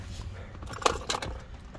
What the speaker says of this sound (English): These are the keys right here.